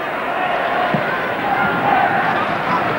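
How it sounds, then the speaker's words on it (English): A football stadium crowd at a vintage Manchester United home match against West Ham, a dense, steady roar of many voices filling the ground, with a commentator speaking over it. "There's a good crowd here"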